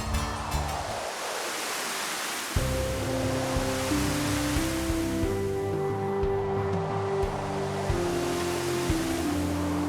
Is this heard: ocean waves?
yes